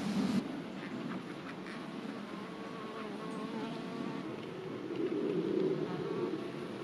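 Honeybees buzz inside a beehive being checked before winter, a dense, close, continuous droning hum with wavering pitch that swells louder near the end, with no talking.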